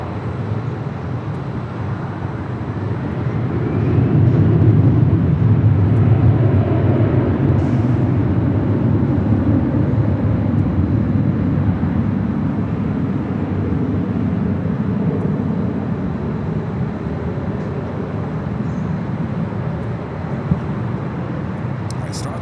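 A jet airliner takes off at LAX, runway 24 left, its engine roar building and holding as a broad, steady rumble for the whole stretch, with a voice talking over it.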